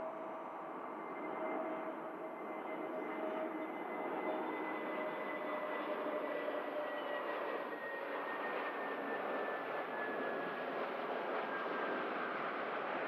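A KLM Airbus A330 airliner moves at Manchester Airport, its jet engines giving a steady, loud roar with a faint whine drifting through it for the full length, with no talk.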